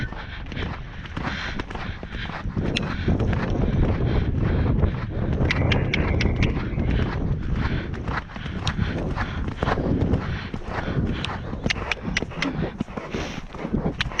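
A horse canters downhill on a hack, its hooves thudding in a quick repeated rhythm under strong wind buffeting the microphone, with occasional speech from the rider.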